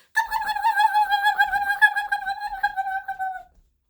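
A human voice imitates a turkey's gobble in one drawn-out, wavering warble lasting a few seconds, close and clear with nothing else around it.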